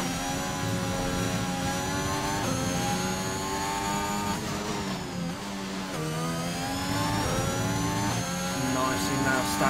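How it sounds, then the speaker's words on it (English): A Renault Formula 1 engine screams at high revs in a racing sim at Belgium, a loud sustained whine with rising and falling pitch as gears shift, briefly dipping near the middle before climbing again. "This Renault engine, when it's screaming,"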